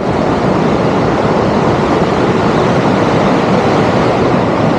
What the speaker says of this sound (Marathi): पाण्याचा आवाज जास्त आहे